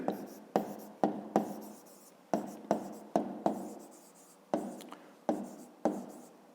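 Pen writing on paper, a run of short strokes with sharp onsets and fading scratches, close and fairly quiet, repeating unevenly about a dozen times with no talk.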